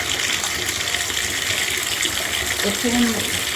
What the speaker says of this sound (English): I'm filling the tub back up